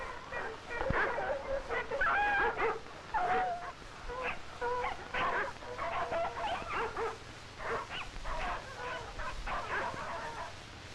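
Sled dogs bark and whimper in a snowy setting, a steady run of yips and barks close by throughout, with no talk over them.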